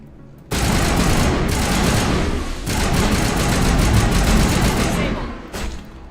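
Assault rifles firing in the Mass Effect video game, a loud, sustained burst of rapid gunfire that carries on for several seconds before cutting out near the end.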